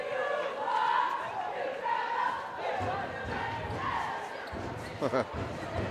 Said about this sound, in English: Southside cheerleaders with an interesting cheer right there.